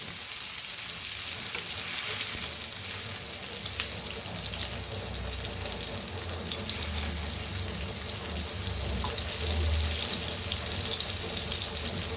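Rava-coated silver bar fish (Goan karli) shallow frying in oil gives a dense, continuous hiss and sizzle, fairly quiet and even throughout with no talking.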